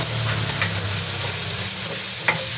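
Onions stirred in a hot frying pan for pork and tofu sisig, a steady sizzle with soft scraping strokes of the spoon throughout, close and alone without voices.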